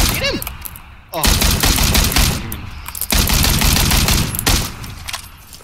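AKM rifle fire in a video game, long loud bursts of rapid automatic shots rattling close by, broken by short pauses, with a voice talking over the shooting.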